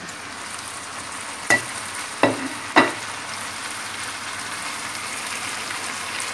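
Blended tomatoes going into a pan of chopped onion frying in sauce: a steady soft sizzle with three sharp spoon-on-pan clinks near the middle as it is stirred, no voices.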